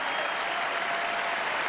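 Steady, dense applause from a large audience at the Kennedy Center Honors in Washington, continuous and evenly loud throughout with no voices over it.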